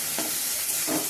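Food is stirred with salt in a frying pan, a loud, steady hiss and sizzle with two brief scraping sweeps close by.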